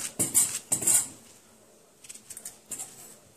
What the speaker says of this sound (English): I'm going to cut it up in small pieces to blend